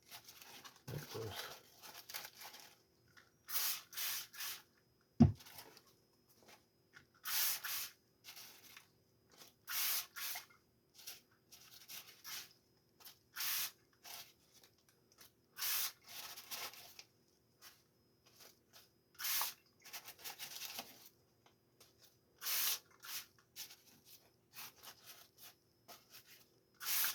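A hand-pumped spray bottle mists water over tobacco leaves, with short sharp hissing bursts repeating irregularly over nearly half a minute against a quiet background, plus soft rustling of handled leaves.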